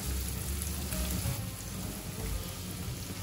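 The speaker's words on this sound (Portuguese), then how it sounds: "eu vou adicionar um pouco da cebola, tá? No caso, divide a cebola aí, que é uma cebola para receita, coloca a metade aqui. Ó, e vamos refogar" Halved onion sautéing in a hot pan, a steady broadband sizzle and crackle holding at an even level throughout, with no talk over it.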